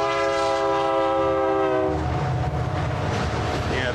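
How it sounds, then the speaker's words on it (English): A freight train near Childress, Texas sounds a loud, sustained horn chord for about two seconds, then gives way to a heavy low rumble of rolling cars, close and continuous. "Yeah, that sounds like a freight train."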